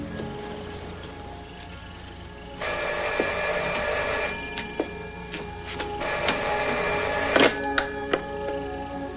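A telephone ringing indoors, two long electronic ring bursts with a pause between them, fairly loud and clear, followed by small handling clicks.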